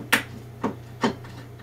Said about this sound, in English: I'm just using the little Allen wrench that was included with the system